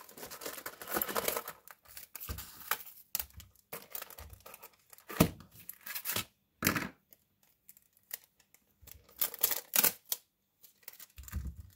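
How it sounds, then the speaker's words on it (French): Strips of clear adhesive tape are pulled and cut in short bursts, with crisp tearing and crinkling rips separated by quiet pauses, close and fairly loud. "Donc, je vais en couper quelques bandes."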